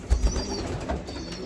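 Young weaning pigeons in a loft give low soft coos with a couple of brief wing flaps near the start, close and moderately loud over a steady background hum.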